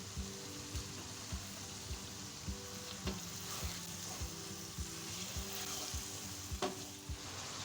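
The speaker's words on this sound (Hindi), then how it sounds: "गोश्त डाल के इसको भूनेंगे अच्छे से 4 से 5 मिनट के लिए" Mutton sizzling as it fries in a pot for Sindhi biryani, a faint constant crackle with regular soft knocks of stirring at about one per second, heard alone and quietly.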